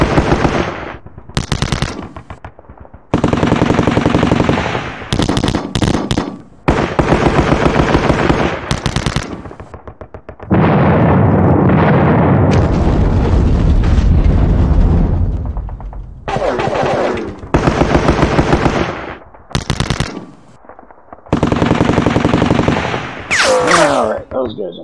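Rapid machine-gun bursts and gunfire in the Sealion '40 wargame, a computer strategy game, arriving as loud repeated volleys separated by brief pauses, with a long sustained rumble of fire in the middle.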